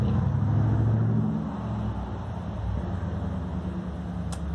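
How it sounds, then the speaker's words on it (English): A car drives along a nearby road on the Oregon Coast, a steady low engine rumble that swells early on and then eases to a softer hum. "Quiet your car down."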